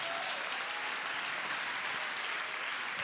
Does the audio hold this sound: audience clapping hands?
yes